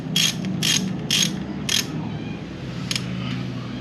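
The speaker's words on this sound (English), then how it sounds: "give it a quick little crank and you're good to go" A 17 mm socket ratchet tightens the oil drain bolt on a Honda CRF 110 dirt bike: four quick bursts of close, crisp clicking pawl sounds, a brief pause, then one more short burst.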